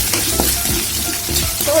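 Potato idly batter ingredients sautéing in a pan, a steady close sizzle with the scrape and clatter of a spoon stirring through it.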